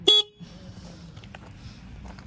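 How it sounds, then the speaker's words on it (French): A single short, bright beep from the horn of an Aprilia RS4 125 motorcycle sounds close by, then quiet room noise follows. "Le klaxon."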